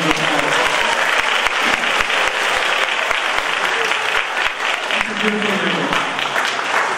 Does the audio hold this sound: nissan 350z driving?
no